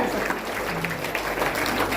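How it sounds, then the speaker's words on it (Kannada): A crowd at a Karnataka State Women's Commission interaction programme with women employees gives a dense, steady round of applause to welcome dignitaries onto the stage. The clapping is loud and continuous throughout. "ಸ್ನೇಹಿತರೆ ಚಪ್ಪಾಳೆ"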